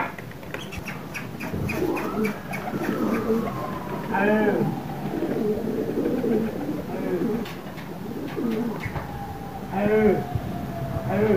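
Several pigeons coo repeatedly, their throaty rolling calls overlapping close by, while a faint siren wails in the distance.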